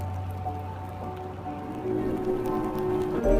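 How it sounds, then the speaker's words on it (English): Rain falls steadily, a soft continuous patter of drops, fairly quiet and even, swelling a little toward the end, with no talking. "I love rain plopping on my umbrella."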